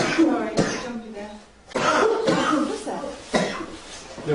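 Harsh, repeated coughing and choking in a quiet building at night, a series of close, rough bursts with brief pauses between them, mixed with speech.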